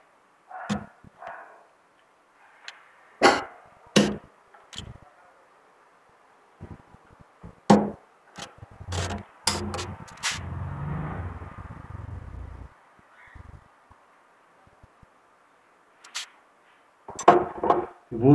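Sharp cuts into a thick bonsai root, heard as a handful of separate snips and cracks with short pauses between them and a longer stretch of rough scraping near the middle, close up and with no talk.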